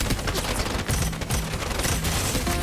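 Gunfire in the video game Strinova, dense rapid bursts of shots that run almost nonstop, loud and close.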